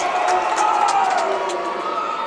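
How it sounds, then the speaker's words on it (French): A wrestling crowd at a JCW event roars continuously and wildly, a dense wall of cheering and whoops that stays loud throughout. "la foule est en délire!"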